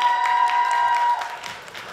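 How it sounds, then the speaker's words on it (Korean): Light scattered applause from an audience at a Korean drama press event photo session, soft overlapping claps under a sustained tonal background, thinning out toward the end. "정은지 씨도 박수를 받으며"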